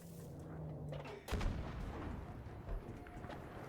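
Gunfire in the shooter game Battlefield 5, a heavy booming shot followed by a rumbling decay and scattered further reports, fairly close with no talk.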